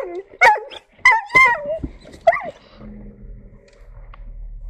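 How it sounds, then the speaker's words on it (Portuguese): A dog barks outdoors on an offroad trip through the canyons of São José dos Ausentes, several close, loud yips and barks in quick bursts with a whimpering tone, followed by quieter rumbling background. "Não, o cachorro tá aí."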